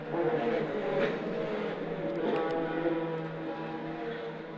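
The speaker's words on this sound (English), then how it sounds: "The Audi R8 a little faster than some of the other cars on the racetrack" An Audi R8 race car lapping Shannonville Motorsport Park during a touring car championship round: a sustained, fairly loud engine drone holding steady as it runs, with no talk over it.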